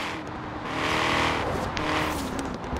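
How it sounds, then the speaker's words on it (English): Engine of a Shelby in the Forza Horizon 3 racing game at a car meet and cruise, a steady, loud roar that swells and fades slightly as the car moves. There is no talk over it. "how amazing this Shelby sounds"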